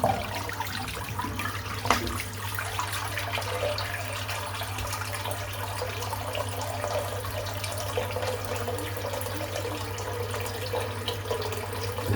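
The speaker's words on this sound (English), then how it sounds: "I'm just going to empty the sink out though because it's full of hair." Water drains steadily out of a full bathroom sink with a continuous gurgling, rushing flow over a low hum, close and even in level from start to finish, with no speech.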